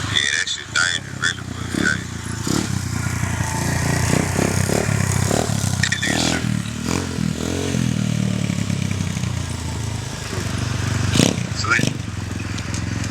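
A dirt bike with no brakes rolls along with its engine running, a continuous motor drone with some clatter and scraping. Voices can be heard over it, with a brief louder burst near the end.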